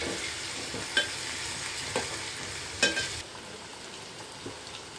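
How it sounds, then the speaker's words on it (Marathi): Onion and tomato sautéing in a pan, a soft continuous sizzle with a few sharp scraping clinks of a spoon stirring, moderately close and fairly quiet. "कांदा आणि टोमॅटो मिक्स होईपर्यंत चांगलं परतून घेऊया."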